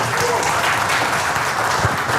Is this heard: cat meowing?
no